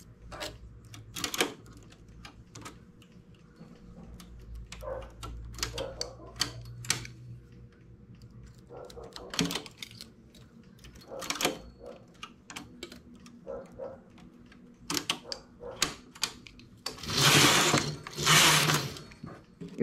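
Knitting machine carriage passing repeatedly over the needles while transferring stitches, giving clattering, ticking mechanical runs with short pauses between passes, ending in a louder, denser burst.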